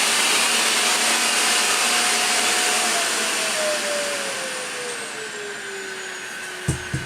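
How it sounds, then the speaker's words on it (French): A Philips Performer Ultimate FC8955/09 bagged canister vacuum runs at full suction on a tiled floor, a steady loud whooshing drone whose pitch slowly sinks, followed by a couple of brief knocks at the end. "c'est un aspirateur qui est silencieux"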